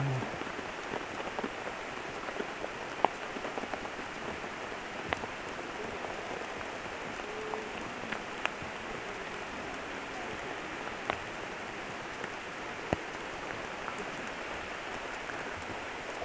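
Steady rain falls during a bicycle trip at Juniko (the Twelve Lakes), a dense continuous patter with occasional sharper drop ticks close by, and no talking.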